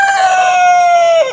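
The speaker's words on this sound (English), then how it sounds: "The rooster isn't going to shut up here" A rooster crows once, a loud, close, sustained call holding steady before dropping off at the end, with no other sounds around it.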